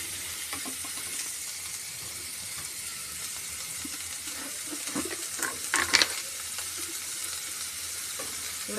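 Dry fish sautéing with salt in a pan, giving a steady soft sizzle and scraping stir throughout, with a brief louder clatter of stirring near the middle.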